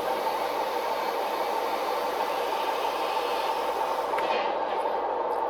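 Model Acela train running on a layout, a steady continuous rumbling hum throughout with a faint click near the end.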